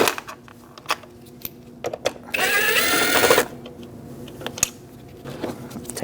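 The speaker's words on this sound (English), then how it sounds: "now we're going to remove our motor with a T25 Torx bit" A power driver with a T25 Torx bit spins a bolt out of a window regulator motor on a 2008-2014 Mercedes-Benz C300. It gives one steady, close whir of about a second amid scattered clicks and handling taps.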